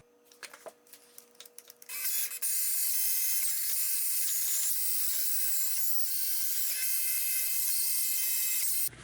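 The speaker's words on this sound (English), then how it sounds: "I'm going to use this ultra finish polish to get up some of the fine scratches left" Power polisher buffing a scratched face shield lens with ultra finish polish: a few light taps and rubs, then a steady, loud high-pitched whirring drone that runs unbroken to the end.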